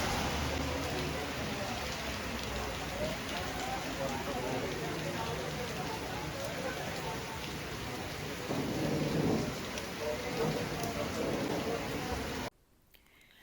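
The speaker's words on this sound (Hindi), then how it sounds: "इतनी बारिश हो रही थी" Heavy rain pours steadily outdoors during a trip to Naran, a loud, constant wash of falling water that continues without a break before cutting off abruptly near the end.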